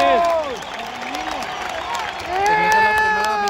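A stadium crowd at a Tigres vs Toluca Liga MX match claps and cheers, with whistles and shouted calls rising over the steady roar of applause, louder at the start and again near the end.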